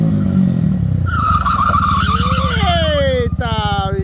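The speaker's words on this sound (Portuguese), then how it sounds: "Esse motor gira bem de alta." A car engine revving high, a Mercedes 190 started and driven on the street, with a loud engine rising and falling in pitch close by while people talk over it.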